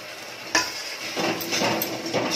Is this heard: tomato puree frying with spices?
yes